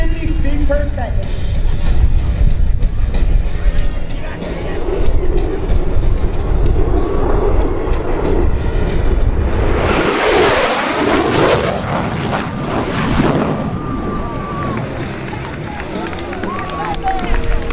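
A USAF F-16 fighter jet makes a loud high-speed pass at a Rhode Island airshow at Quonset, with a steady roaring rumble building to a tearing swell as it crosses overhead, then trailing off.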